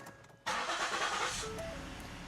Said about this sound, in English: Okay, so let's turn on the car.